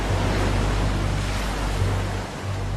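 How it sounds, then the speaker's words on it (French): Huge ocean waves crash and churn in a loud, unbroken roar of surf with a deep rumbling undertone, no voices present. "d'énormes vagues se sont écrasées sur l'armée de Pharaon"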